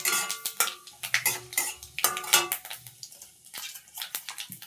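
A utensil stirs dried red chilli, bay leaf and five-spice seeds in hot mustard oil in a wok. Close, sharp metallic clinks and scrapes come in an uneven rhythm over a faint sizzle.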